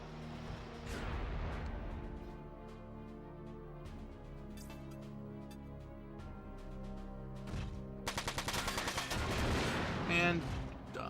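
Missile fire in the mech strategy game Front Mission 4: loud booming blasts over a droning game soundtrack, then a rapid rattling volley of launches near the end, closing in a heavy crashing impact.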